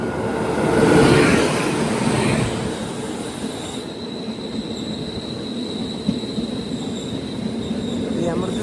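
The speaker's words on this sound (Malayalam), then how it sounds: "കുമ്പളത്ത് ഇവിടെ അമൃത്സർ തിരുവനന്തപുരം നോർത്ത് എക്സ്പ്രസ് ഉണ്ട്." The Amritsar–Thiruvananthapuram North Express rolls through a station in Kerala, heard close and loud with rumbling wagons, rattling wheels and a thin wheel squeal that settles into a steady passing roar.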